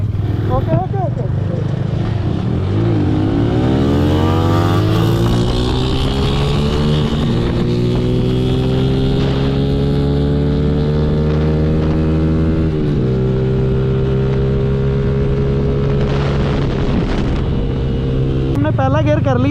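Yamaha YBR 125 and Honda Deluxe motorcycles accelerate side by side in a rolling race through second and third gear, engines climbing in pitch with a gear change partway through, under steady loud wind rush.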